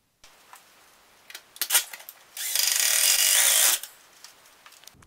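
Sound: power drill driving self-tapping hex head screws into stove pipe

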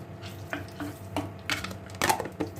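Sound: stirring tomato and pepper paste in a pan

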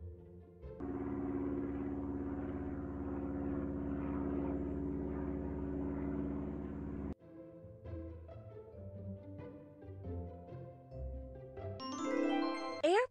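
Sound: airplane

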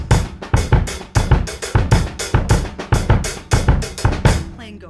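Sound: drum set samba with accents on hi-hat and snare

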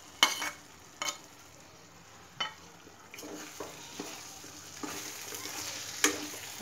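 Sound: onion, capsicum and chillies frying in a pan

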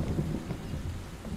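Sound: thunder in a storm in a video game

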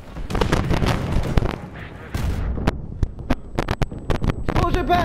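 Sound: C4 explosive detonating in video game

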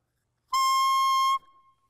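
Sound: clarinet single reed vibrating alone without the instrument

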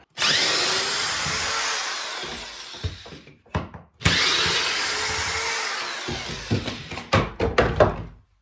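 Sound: power tool unscrewing shelves

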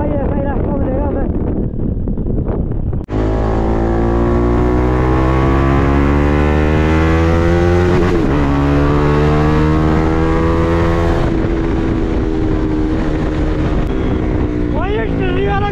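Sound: car driving on a dark road

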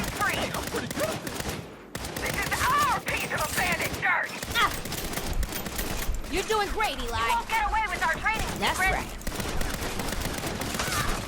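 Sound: gunfire in Saints Row (2022) video game

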